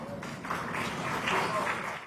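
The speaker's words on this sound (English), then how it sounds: "Let's give them another round of applause." Audience applause following a dance performance called The Black Butterfly at a disability community expo, a steady wash of clapping throughout with voices mixed in.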